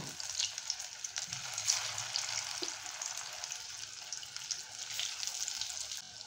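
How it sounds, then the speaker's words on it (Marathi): Cabbage vadi pieces fry in a small amount of oil, a continuous bright crackling sizzle that stays close and fairly even throughout, with no voices. "आता आपण तळायला घेऊया. इथे मी तळायला तेल ठेवलेलं आहे, थोडंसंच ठेवलेलं आहे."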